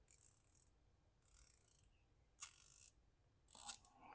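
A compact Japanese 72-tooth ratchet clicks through four short bursts, two fainter runs followed by two sharper, louder ones, each a fine rapid buzz of tiny clicks in an otherwise quiet room.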